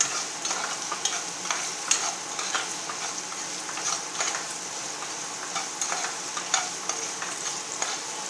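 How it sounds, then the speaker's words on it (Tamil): Salted onions sautéing in a pan for a Tamil egg fry, a continuous close sizzle broken by frequent irregular scrapes and clinks of a spoon stirring. "இப்போ இந்த ஆனியனுக்கு கொஞ்சம் சால்ட் போட்டுக்குவோம். நல்லா கொஞ்சம் நேரம் வதங்க."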